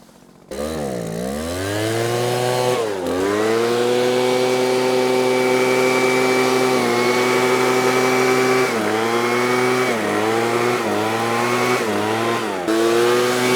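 A gas or electric leaf blower runs continuously at close range, its motor pitch surging and dipping several times as the throttle is pushed and eased, with no one talking over it.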